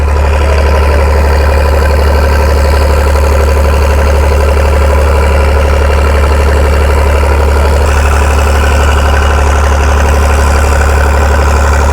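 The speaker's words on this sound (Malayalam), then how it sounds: "ബോട്ട് ഇവിടുന്ന് വിട്ടു." A passenger boat engine runs at Lakshadweep, a loud, steady, deep rumbling drone up close that holds unbroken throughout.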